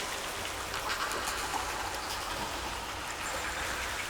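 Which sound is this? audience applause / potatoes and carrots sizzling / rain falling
rain falling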